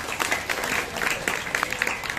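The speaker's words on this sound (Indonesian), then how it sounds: "tepuk tangan penabuh hebat" A brief round of applause from an audience at a Balinese drama gong performance, cheering the gamelan musicians, with scattered distinct claps over a busy crowd bed.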